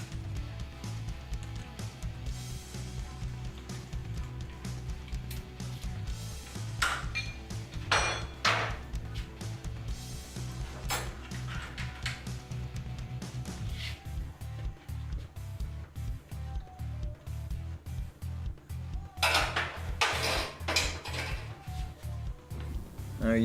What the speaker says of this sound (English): we're going to use a set of snap ring pliers and a screwdriver to remove the snap ring